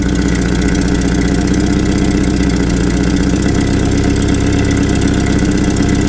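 A Land Rover Series 2 engine idling just after a restart, a loud, close, continuous rumble with a steady rhythmic beat that settles slightly lower about halfway through.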